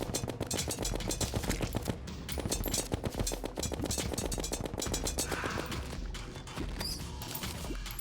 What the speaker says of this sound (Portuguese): Esse tiro de alta velocidade aqui tá sendo melhor do que eu imaginei.